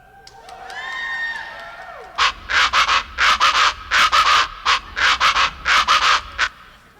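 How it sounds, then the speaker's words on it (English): A huacharaca, the ridged scraper used in cumbia, rasps in a steady chugging rhythm of about a dozen loud, close strokes, after a short opening of bird-like whistling cries. "so this is an indigenous instrument that drives the rhythm in cumbia. It's called a huacharaca"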